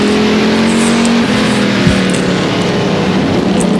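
A pure stock race car at Sycamore Speedway drones steadily under throttle from inside the cockpit, loud and continuous with a small pitch dip, alone without talk.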